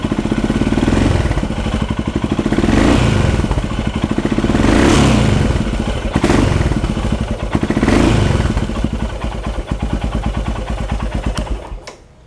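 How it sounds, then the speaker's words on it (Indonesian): Custom Royal Enfield Himalayan motorcycle exhaust without its DB killer, revved repeatedly in close, loud pulses over a thumping idle, four or five rising blips before it dies away at the end. "sekarang gue mau dengerin suara knalpotnya ke kalian."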